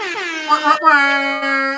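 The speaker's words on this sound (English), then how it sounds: "Where's the air horn? There you go." A loud, blaring air horn blast sounds twice in quick succession, the second held steadily until it cuts off.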